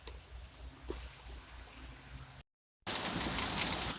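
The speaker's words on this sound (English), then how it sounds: "And there's the rain coming down." Rain comes down outdoors in a yard, a steady soft patter with a few sharper drops, then after a brief gap a much louder, denser hiss of rainfall.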